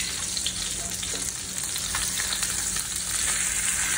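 Steak sizzles and fries steadily in a hot pan, a loud continuous crackle with faint scraping as it is turned with tongs, no talking.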